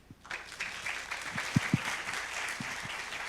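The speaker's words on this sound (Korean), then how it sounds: "박수를 부탁드립니다." An audience at a Korean scientists' conference gives a light round of applause for a speaker, faint and distant, the clapping holding steady for a few seconds.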